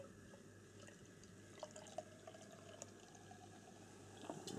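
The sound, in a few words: pouring Aspall organic Suffolk cider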